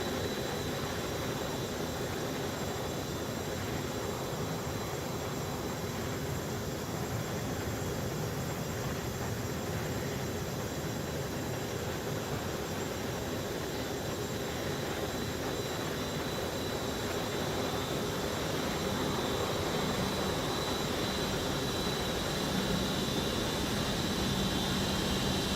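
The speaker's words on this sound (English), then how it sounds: "the Embraer E145 is pretty nice aircraft" An Embraer E145's jet engines in the X-Plane 11 flight simulator give a continuous, steady roar with a high whine on top, constant in level and with no speech.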